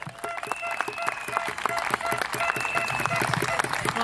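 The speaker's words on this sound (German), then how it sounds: "Großen Applaus für Maike!" A crowd at a political speaking event in Stuttgart gives Maike a round of applause, dense rhythmic clapping from many hands that swells slightly and continues steadily throughout.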